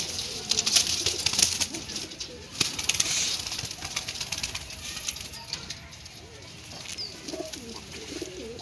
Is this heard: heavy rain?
no